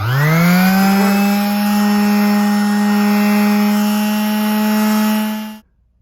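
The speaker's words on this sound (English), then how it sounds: "back with the sander, I have 1000 grit on there" A power sander fitted with 1000 grit spins up quickly to a loud, steady whine while smoothing a turbo turbine housing, holding an even pitch for about five seconds before cutting off abruptly into silence.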